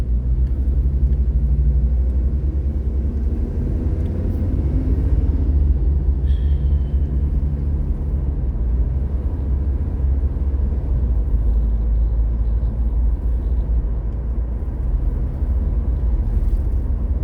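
Steady low road rumble of a car cruising along a highway toward an airport, continuous and fairly loud throughout with no talk, only a brief faint higher tone partway through.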